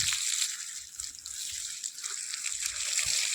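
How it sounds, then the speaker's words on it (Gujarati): Soft, steady trickle of water flowing to irrigate an onion field, with a light splashing hiss, continuous and fairly quiet throughout. "ડુંગળીમાં મૂકી દીધું છે અત્યારે પાણી"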